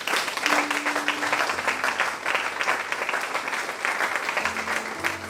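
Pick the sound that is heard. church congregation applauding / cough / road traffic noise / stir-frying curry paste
church congregation applauding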